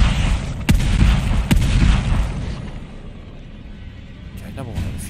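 Explosion of a shot tank in The Evil Within 2, a deep booming blast with sharp bursts near the start that rumbles away, with a voice talking over the game sounds.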